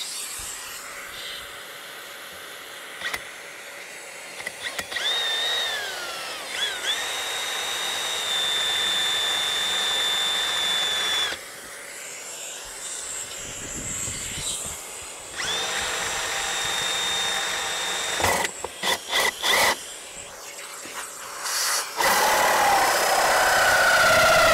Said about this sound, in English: So I got the hole drilled